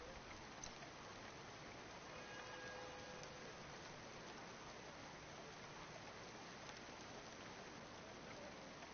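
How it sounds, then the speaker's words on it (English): Steady rain ambience from the video game Cloudpunk: a dense, even hiss of rainfall on surfaces, faint and constant throughout with no breaks. "Don't let all the rain get you down."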